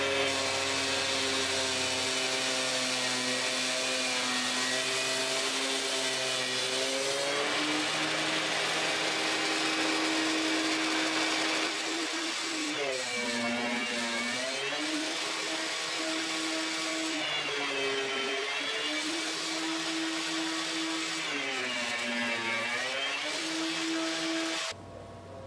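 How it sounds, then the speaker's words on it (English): A power planer runs wood through the cut in a steady, loud, whining drone that holds for about 25 seconds, its pitch sagging and recovering several times as the board feeds under the blades. "Well, I'm gonna run this through the planer."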